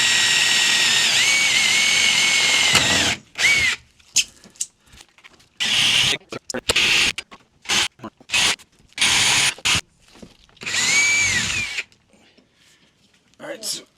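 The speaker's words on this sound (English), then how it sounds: "so I'm just pre-drilling these holes" A power drill pre-drilling holes in a Ford Transit van roof whines steadily for a few seconds, then runs in a string of short, sharp bursts with quiet gaps between, close by.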